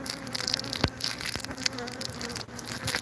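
Bees buzzing steadily around newly installed beehive nucs during an outdoor inspection, with several close insects droning and passing near, a few sharp faint knocks among them, and no speech.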